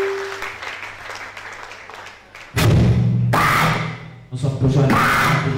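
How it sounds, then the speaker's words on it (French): A church congregation applauds loudly for Jesus during a French-language service: after a quieter passage, a sudden burst of sustained clapping and cheering erupts, dips briefly, then swells again. "Acclamez très fort pour Jésus."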